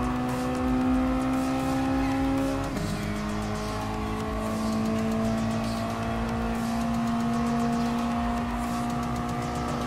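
Mazda Roadster Touring Car racing in Gran Turismo Sport, its engine holding a loud, steady, high drone with a brief dip in pitch partway through as it shifts, and faint tire squeal underneath.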